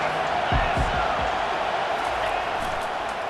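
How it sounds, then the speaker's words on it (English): A stadium crowd roars for the defense on third down in the EA Sports College Football 25 video game, a loud, steady wash of cheering with a few low thuds near the start. "Decibels rising as the crowd gets behind this defense on 3rd down"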